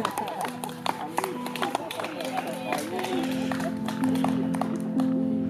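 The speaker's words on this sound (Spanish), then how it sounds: "un aplauso" An indoor audience applauds the sculptor Peter Kostner, scattered claps growing into fuller, steadier applause against a sustained tonal hum and murmuring voices.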